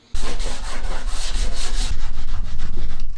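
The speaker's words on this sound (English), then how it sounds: "just give that a light sanding around the frame first" Rapid rhythmic rasping strokes of sandpaper rubbed back and forth on a wooden frame inside a Peugeot Boxer camper van, loud and close, continuing without pause.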